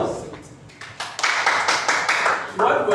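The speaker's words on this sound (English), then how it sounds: "So let's clap for ourselves" Classroom audience breaking into applause, scattered claps swelling into a louder burst of clapping after a brief quiet start.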